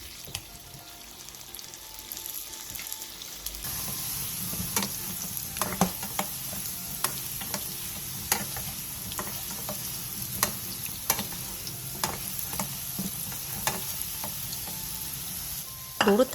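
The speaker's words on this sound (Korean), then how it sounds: "팬에 기름을 살짝 넉넉하게 두른 뒤 감자를 넣고 중약불에서 튀기듯이 볶아주세요" Potatoes stir-fried in a generous layer of oil in a pan over medium-low heat, a steady sizzle with repeated scraping stirs and clinks running throughout, loud and close with no voices.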